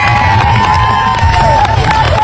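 Crowd at an outdoor Thai political rally cheering and clapping for a bride and groom in attendance, a loud continuous roar of voices and scattered applause with music-like tones running through it.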